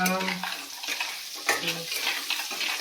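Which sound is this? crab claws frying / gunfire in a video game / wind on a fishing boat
crab claws frying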